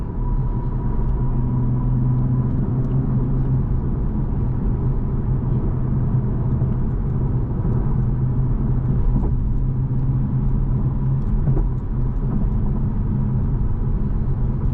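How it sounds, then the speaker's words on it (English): A 2024 Toyota GR Supra 3.0 inline-six with a six-speed manual drones at steady speed, a low continuous rumble from inside the cabin with no voices. "And the engine sounds phenomenal,"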